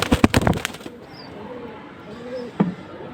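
A released pigeon bursts into flight with a quick flurry of close wing flaps, followed by quieter ambience and one more brief flutter near the end.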